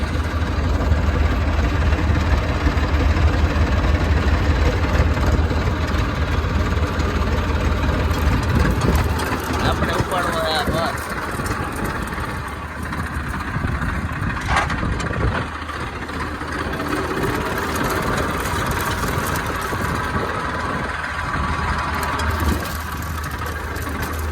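Steady low machine drone of a thresher running nearby on a farm during coriander harvesting, a continuous heavy engine hum holding level throughout with no talk.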